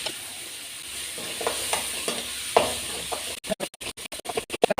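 Thorny brinjal sautéing in a pan for kara kulambu gives a steady close sizzle with repeated spoon scrapes and stirs, and a burst of sharp rapid clatter near the end.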